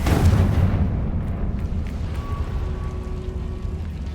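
Confringo blasting spell exploding in Hogwarts Legacy: a loud, deep boom that rolls off into a long rumbling decay, alone without talk.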